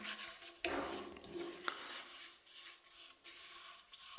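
Cloth rubbing microcrystalline wax thinly over a wooden turning, a steady close rasping friction with a few sharper strokes, no voices.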